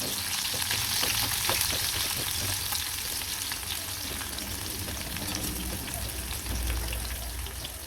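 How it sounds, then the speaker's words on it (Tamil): Small shallots sautéing in hot oil in a small pan, a dense continuous crackling sizzle close by, steady throughout with faint stirring taps underneath. "எண்ணெய் சூடாகிட்டு அதில் கொஞ்சமாக சின்ன வெங்காயம் போட்டுக்கலாம். லைட்டாக வதக்கி விட்டுருவோம்."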